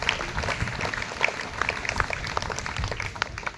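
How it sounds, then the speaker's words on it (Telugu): A congregation claps in a church during Easter Mass at St. Teresa of Avila church in Pendurthi: steady, dense applause from many hands, moderately loud and continuous, with no talk over it. "గట్టిగా చప్పట్లు కొడదాం."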